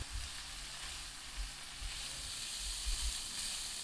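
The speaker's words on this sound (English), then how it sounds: "Mix well and let it cook for about 5 minutes, allowing it to get lightly golden." Cauliflower fries in a pan with a steady, close sizzle and hiss, while soft low thumps of stirring come through now and then over about four seconds.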